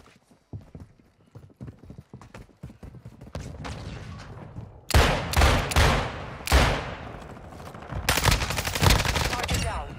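Gunfire in the Warzone video game at Vondel Park: loud bursts of close-range shots ring out in clusters over the second half, after quieter footsteps and movement, with no talk.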